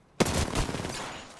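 Gunfire in the video game Apex Legends, a sudden burst of shots that opens sharply and then trails off into a dense, rolling rumble, moderately quiet overall.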